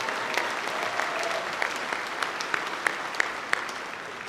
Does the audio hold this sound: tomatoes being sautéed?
no